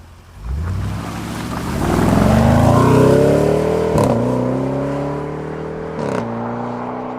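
A Jaguar F-Pace SVR accelerates hard along a road, its engine note climbing steadily and loud, then briefly dipping at two gear changes before pulling on again.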